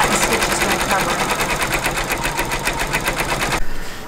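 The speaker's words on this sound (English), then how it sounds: "now it's just going to stitch red stitching right on top of what it already was" Multi-needle embroidery machine running a red satin stitch over earlier white stitching on a patriotic table topper, a fast steady rhythmic whirring hum with rapid needle pulses, close and loud, stopping abruptly near the end.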